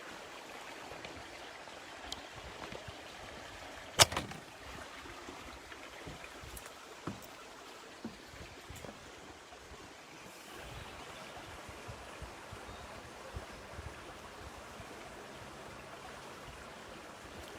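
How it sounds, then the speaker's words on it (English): San Pedro Creek in San Pedro Valley Park flows in a steady, soft broadband wash of water, quiet and continuous, with a few faint knocks and ticks over the stream noise and no voices. "going back to the creek and showing you all the beautiful San Pedro Creek here at San Pedro Valley Park"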